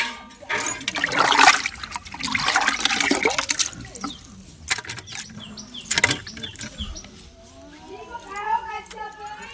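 Vegetables such as chillies, coriander and onions are swished and rinsed in a bucket of water outdoors, giving repeated splashing and trickling sloshes of moderate loudness, with people talking over much of it.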